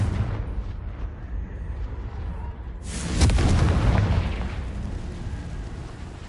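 A Confringo fire-blasting spell in the video game Hogwarts Legacy goes off as one loud, broad explosive blast partway through, rumbling and then fading into a low roar, with no speech.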